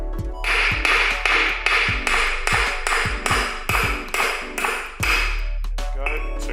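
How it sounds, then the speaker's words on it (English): A big hammer drives extended metal wheel lugs into a Ford Fiesta Mk6 drum brake between wood blocks, about a dozen sharp blows in a steady rhythm, each with a bright clanging ping, up close. "using your biggest hammer, simply just hammer the shit out of them"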